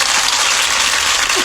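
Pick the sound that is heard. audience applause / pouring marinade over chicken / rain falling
audience applause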